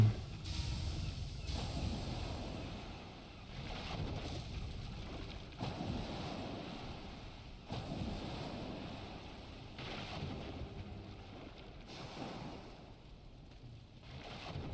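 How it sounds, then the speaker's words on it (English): Ocean waves splash and surge in the video game Valheim, a steady broadband wash of water and wind-like rush with periodic swells, continuous and moderately loud with no talking. "A lot of splashing out there."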